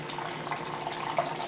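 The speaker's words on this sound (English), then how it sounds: "I'm going to fill a bowl with some water" Purified water pouring steadily into a bowl, a soft continuous close-up trickle with a couple of small splashes near the end, no voices.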